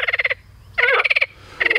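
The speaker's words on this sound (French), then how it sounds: "ce que j'essaie de dire entre deux coassements de grenouilles" Frogs croak loudly and close in three rhythmic bursts of rapid pulsed calls, the calls separated by short quiet gaps, with grassy ground around the water.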